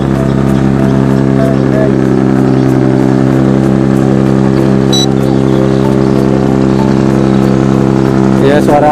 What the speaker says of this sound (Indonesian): Suara kapal nih, kapal yang kelihatan ya.